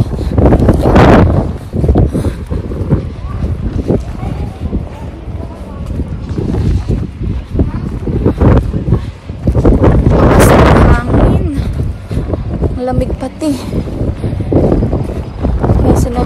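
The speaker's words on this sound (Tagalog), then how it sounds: "Kaya lang di ko alam kung naririnig niyo ako kasi sobrang hangin." Strong gusts blowing on a city street in Canada, buffeting the microphone in loud, rough bursts that rise and fall, while someone talks through the roar as she walks.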